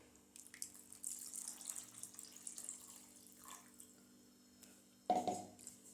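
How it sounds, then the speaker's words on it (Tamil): Water is poured into a cooking chicken gravy, splashing and trickling steadily for several seconds, ending in a brief louder gush near the end; close and moderately loud, no talking. "நம்மளுக்கு எவ்வளோ கிரேவி வேணுமோ அதுக்கேற்ற மாதிரி தண்ணி நான் சேர்த்துக்கிறேன்."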